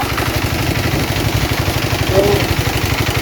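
A motorcycle engine idles close by with a steady, low, rhythmic chug throughout.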